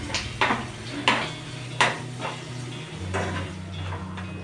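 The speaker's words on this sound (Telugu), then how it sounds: "సాల్ట్, మొత్తం ఒకసారి మిక్స్ చేద్దాం." Prawn, potato and brinjal curry being stirred in a pan, with repeated scraping and clinking of a utensil against the metal at an irregular rhythm, a soft frying hiss underneath, and no talking.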